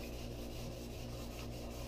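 Mahogany wood dye is worked into a wood surface with a steady, close rubbing and scrubbing, faint and continuous with no talk.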